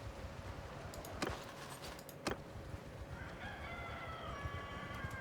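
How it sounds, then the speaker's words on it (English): Rooster crowing in the video game Mount & Blade II Bannerlord, a faint drawn-out crow near the end over a quiet ambient bed, with a couple of sharp clicks earlier. "Heard the rooster."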